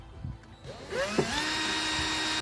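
A power drill whirs up to speed and keeps grinding steadily as it bores holes in a Jeep Cherokee XJ hood for strut mounting, close and fairly loud.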